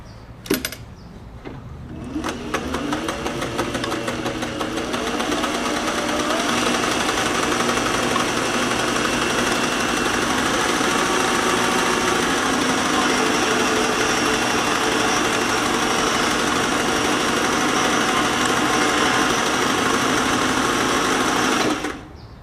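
Singer 503A sewing machine running a stitch test: after a short start-up clatter, a fast, steady mechanical whir with rapid rhythmic stitching runs continuously and close, stopping abruptly at the end, with no talking.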